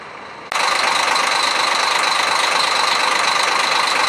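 A Scania DC13 12.7-litre diesel in a Busscar Busstar DD double-decker bus, a Scania K400, runs loud and close with a steady, dense rumble that jumps up abruptly after a quieter half-second and then holds even throughout, with no talking.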